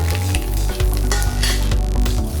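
Dried red chillies fry in hot oil as a tempering for coconut curd pachadi, giving a loud, steady sizzle close by with faint stirring scrapes and no voices.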